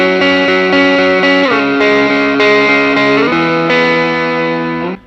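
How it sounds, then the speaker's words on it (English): A GTRS S801 modelling guitar set to a Stratocaster-style single-coil tone plays sustained, effects-laden chords with shimmering chorus and light overdrive, changing chord roughly every second and ringing out alone at close, steady volume. "Or if I just want to go back to that Stratty type of sound"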